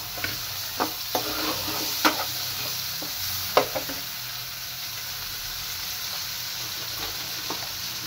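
Chicken frying in a pan with dairy cream, garlic and pepper, a steady close sizzle broken by scattered clicks and scrapes of a utensil stirring, with no talk.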